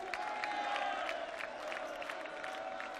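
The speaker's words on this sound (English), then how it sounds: "He got a cheer." A darts crowd at the 2019 German Darts Open cheers for a player, a continuous roar of many voices with a steady hum running through it. Moderately distant and even throughout.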